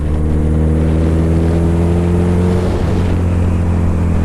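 A Suzuki Hayabusa motorcycle pulls hard in first gear, its engine a loud, constant roar with layered tones and a brief dip in pitch near the end, close and with no talk over it.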